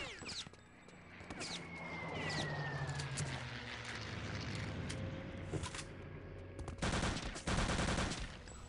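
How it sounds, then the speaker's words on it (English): Long-range gunfire in Return to Castle Wolfenstein: bursts of shots crackle across a busy game soundscape, with heavier, denser volleys arriving near the end. "So we see some long range shooting from Clown"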